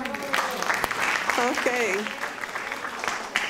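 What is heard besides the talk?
audience applause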